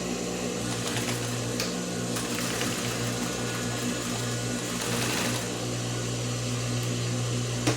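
A sewing machine stitching a pencil case, running as a steady close mechanical whir throughout, with no talking.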